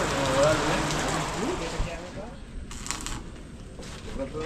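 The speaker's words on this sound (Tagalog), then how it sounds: "nakalabas yung araw pero umuulan" Rain falls at a house construction site while the sun is out, a dense steady hiss that is strongest at first and then thins out, with voices speaking over it.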